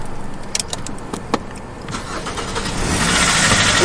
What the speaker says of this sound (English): After successfully activating the engine with a USB cord, Swervo's on the move